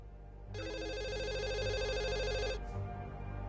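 A telephone rings inside the video game The Assembly, giving one long electronic trilling ring that stops abruptly, over a low ambient hum.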